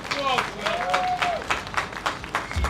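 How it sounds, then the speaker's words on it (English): Crowd applause at an outdoor London protest, scattered clapping heard in pulses beneath a voice that keeps talking over it. "give him a round of applause, please"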